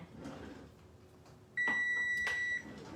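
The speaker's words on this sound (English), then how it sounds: "Yes, I set my timer, Tina, and we're 5, 4, 3, 2, 1." A kitchen timer beeps at the end of its countdown, a steady high electronic tone lasting about a second, loud and close over a soft room background.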